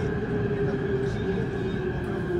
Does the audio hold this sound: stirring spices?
no